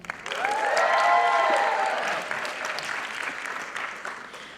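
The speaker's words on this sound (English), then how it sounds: "Let's hear it for the rock star sister, Isha." Audience applause at an arangetram, a classical Indian dance debut recital, rises quickly into steady clapping with some cheering and whistles, then thins slightly while continuing for several seconds.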